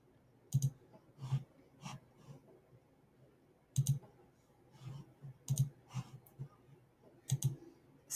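Several sharp computer mouse clicks while clicking a link in a G Suite slide, arriving in small pairs and singles spread across the clip over a quiet room background, with no talking.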